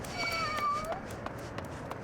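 A cat in a fantasy role-playing video game gives a few short, faint meows, with small tapping game effects scattered behind it.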